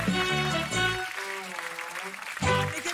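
Studio audience applause on a French TV talk show, a burst of clapping that fades under speech, then swells again at the end.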